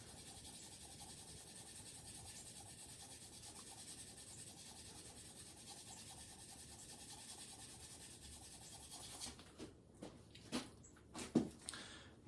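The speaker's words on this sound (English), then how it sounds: "brushing away some of those leftover residue from the crumbs of the eraser" A hand brushes eraser crumbs off a pencil skull drawing on paper: a quiet, steady papery rubbing that turns into several short, separate brushing strokes near the end.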